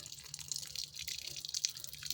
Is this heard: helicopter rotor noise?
no